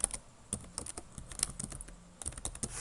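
Typing on a computer keyboard while writing JavaScript code, a close, quiet run of irregular key clicks with short pauses between bursts, no talk.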